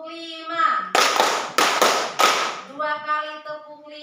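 A classroom group claps in counted rounds as an ice-breaker, with sharp bursts of clapping between stretches of a voice leading the count; the claps are loud and close, with speech before and after.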